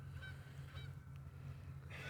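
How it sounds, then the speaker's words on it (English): Two geese fly overhead above a snowy landscape and give a few short honks spaced apart. The calls are faint and distant over a low steady rumble. "There's these 2 geese flying right at us."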